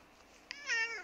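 A cat meows once, close and clear, a short rising-then-falling call that follows a faint earlier click in an otherwise quiet room.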